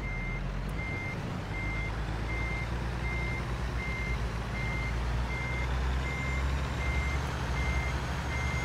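Regular reversing beeps sound from a truck backing up in American Truck Simulator during a road roller delivery, steady and evenly spaced over a constant low engine rumble, with no talk.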